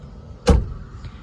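A single solid thud as the door of a 1992 Lincoln Town Car Executive with over 200,000 miles swings shut, loud and close, with a faint lighter click just after and a quiet cabin before and after.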